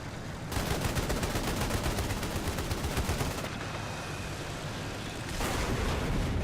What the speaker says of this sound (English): the other shooting I can hear going on up here